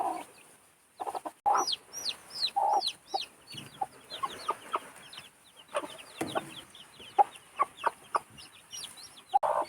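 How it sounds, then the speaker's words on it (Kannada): Chicks being let out of their coop in the morning cluck and peep in quick, scattered bursts, close and fairly faint, with some louder hen-like clucks mixed in. "ನಿನ್ನೆ ಬಿಟ್ಟಿರುವಂಥ ಕೋಳಿ ಮರಿಗಳನ್ನೆಲ್ಲ ಗೂಡಲ್ಲಿಟ್ಟಿದ್ವ ರಾತ್ರಿ ಈಗ ಓಕೆ ತಿಂಡಿ ಕೊಡುವ ಅಂತೇಳಿ ಹೊರಗಡೆ ಬಿಡೋದಕ್ಕೆ ಬಂದಿದೆ"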